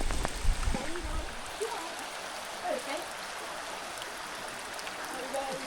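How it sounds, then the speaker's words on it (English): Steady rain falling in Hafren Forest, a soft continuous hiss of drops with brief close thumps and rustles at the start, while a voice speaks briefly over the wet backdrop. "Something quite peaceful about the rain."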